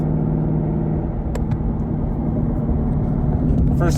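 Ford Mustang GT fitted with an Armytrix exhaust idles with a steady, deep low rumble close by, holding constant for the whole stretch with no revving or voices.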